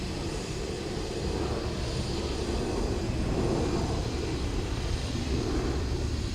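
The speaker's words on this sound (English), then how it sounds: "ATR from Glasgow next to land." An ATR turboprop arriving from Glasgow lands at Dublin Airport, its engines a steady, broad rumbling roar that swells slightly midway and stays fairly distant, with no voices over it.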